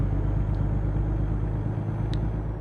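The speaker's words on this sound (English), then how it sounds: "Listen to that hum. This is a big truck." A big truck engine in American Truck Simulator drones in a low, steady hum, close and continuous, with a faint brief tick partway through.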